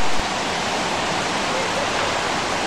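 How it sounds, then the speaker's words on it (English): Iguazu Falls on the Iguazu River, on the Brazil–Argentina border, give off a dense, unbroken roar of falling water, loud and steady from start to finish. "Iguazu Falls are the waterfalls of the Iguazu River located on the border of Brazil and"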